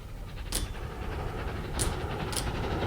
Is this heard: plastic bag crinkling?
no